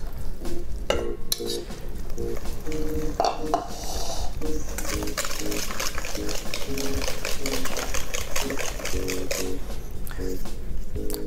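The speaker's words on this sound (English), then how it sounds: "I'm gonna pour my egg mixture into the dry and start mixing that." Steady scraping and clinking of a utensil stirring thick cake batter, egg mixture into dry ingredients, in a bowl, continuous and close, with a faint background hum.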